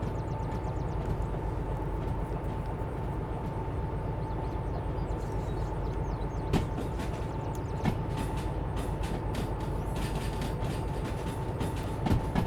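A DH4 locomotive hauling a military freight train in the simulator game Derail Valley, a constant heavy rumble with occasional sharp clacks from the track toward the end, with no voices.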